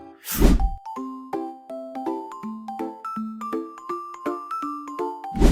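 Bright bell-like ding tones ring out in a quick run, one after another, each decaying briefly, a clear notification chime sequence played loud and alone with no talking.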